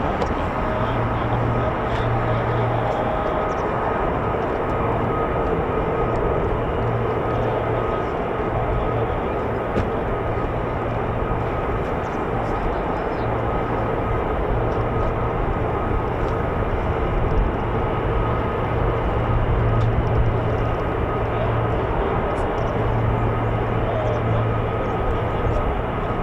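F-15 or F-35 fighter jets of the 48th Fighter Wing taxi at RAF Lakenheath, a continuous, moderately distant jet whine and rumble with a steady droning tone that holds throughout.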